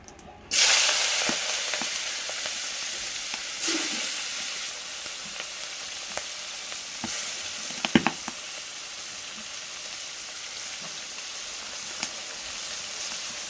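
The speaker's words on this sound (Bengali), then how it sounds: "এখন ধরো চিংড়ি মাছগুলো ভেজে নিয়েছি, গুঁড়ো মাছও ভেজে নিয়েছি, কড়াই তেল দিয়ে দিয়েছি।" Prawns dropped into hot oil in a wok (kadai), a sudden loud sizzle that bursts in after a moment of quiet and keeps hissing steadily, with occasional spatters and scraping stirs close by.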